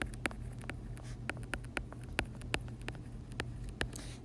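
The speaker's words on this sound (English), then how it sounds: "Let's write that down." A pen scratching out a geometry proof statement on paper, quiet close strokes with sharp clicking taps in an irregular rhythm over a low steady hum.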